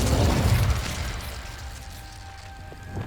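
A burst of the Incendio fire spell cast in Hogwarts Legacy: a loud rushing whoosh and crackle right at the start that decays into a fading, rumbling hiss, alone with no talk.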